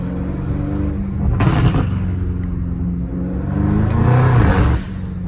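BMW M5 Competition drifting through corners in the rain, its engine roaring steadily with two louder surges of revving and crackling exhaust bursts, close and continuous throughout.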